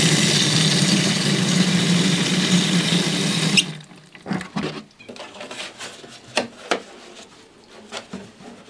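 Water pours steadily from a homemade gravity-fed camp shower set up in the woods, a loud continuous splash that stops abruptly partway, followed by scattered knocks and handling noises.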